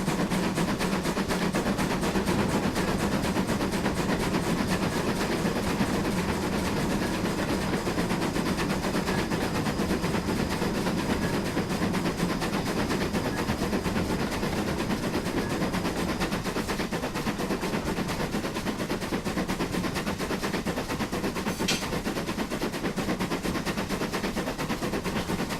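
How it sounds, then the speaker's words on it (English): Collett Goods steam locomotive working hard, a dense, continuous rapid chuffing and rattling beat that stays loud and even throughout, with no voices. "I'm just letting the engine sounds."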